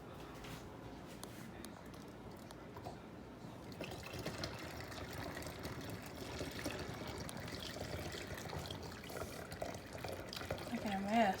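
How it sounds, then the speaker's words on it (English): Tea poured carefully into a tea jug, a steady liquid trickle and splash running under nearby talk, growing a little louder toward the end. "she's gonna carefully pour it into our tea jug"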